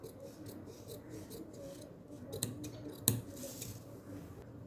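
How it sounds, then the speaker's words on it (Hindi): Scissors snipping away extra fabric at a folded, stitched neckline, a few soft close cuts with one sharper snip, alone without talk. "जो इसका एक्स्ट्रा फैब्रिक है वो हम इसे काट देंगे।"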